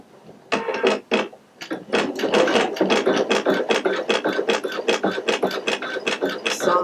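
A Pfaff Creative Icon 2 embroidery machine stitches yellow thread for fringe flowers, a rapid, steady mechanical chatter of needle strokes that starts after a brief pause and runs continuously, close and fairly loud, with no talking.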